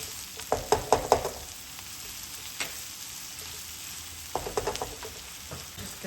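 Onions lightly frying in a pan for a dhaba-style baingan bharta, a steady close sizzle broken by clattering bursts of stirring at the start and again near the end.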